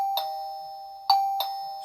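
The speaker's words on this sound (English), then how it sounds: "So you hear those bells coming from here, and also the visitor hears the bell over here." TOGUARD video doorbell camera chime ringing indoors, three clear bright electronic dings spaced unevenly, each ringing out and decaying, close and alone without talk.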